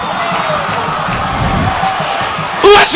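A big home crowd roars at a Ouachita Baptist University night football game against Harding, a steady wash of cheering and whoops, with a louder, closer burst of shouting near the end.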